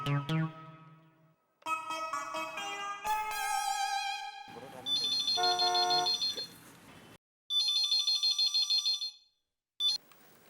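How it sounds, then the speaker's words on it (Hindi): Electronic ringing tones play in bursts, a melodic ringtone followed by repeated trilling rings with short silences between. "जेठा को फोन करके बुला लेता हूँ।"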